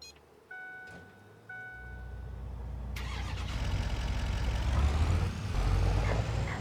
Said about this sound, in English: Let's drive the pickup truck.